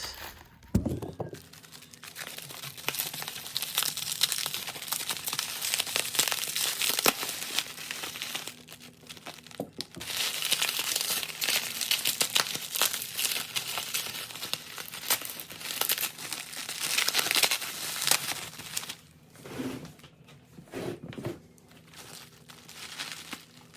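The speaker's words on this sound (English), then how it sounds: "So I'm gonna unwrap these and show you guys the lens." Packaging around etched headlight lenses for a Genesis Coupe being unwrapped, with long stretches of close, loud crinkling and tearing of plastic and paper, plus a few dull thunks.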